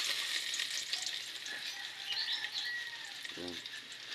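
Garlic fries in a pan with a steady, close sizzle that runs the whole time, and a brief low voice or croak sounds near the end.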